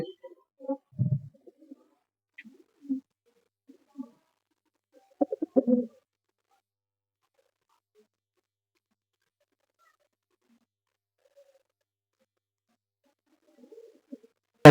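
Madras pigeons coo in short, soft bursts separated by long silences, with a few low throaty calls near the start and a cluster of coos in the middle, close and quiet.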